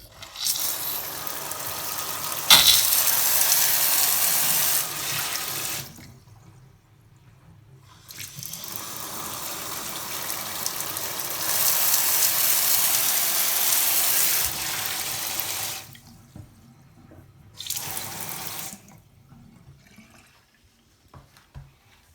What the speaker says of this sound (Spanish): Y vamos a drenar el agua.